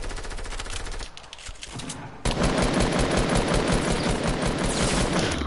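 Sustained, loud gunfire from a video game, with a denser stretch of rapid shots after a brief lull, in a match where a player is taken out by a sniper shot.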